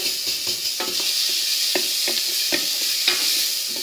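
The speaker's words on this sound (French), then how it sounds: "on n'hésite pas à mélanger à l'aide d'une cuillère" Bacon lardons sizzle steadily in a frying pan, with a spoon scraping and stirring through them in a run of soft knocks over the constant hiss, close and with no voices.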